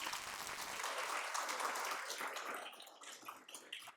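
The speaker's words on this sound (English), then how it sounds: "A round of applause for Nathan." Audience applause fills a school board meeting room, a dense steady clapping that holds strong for about two seconds, then thins and tapers toward the end with no one speaking over it.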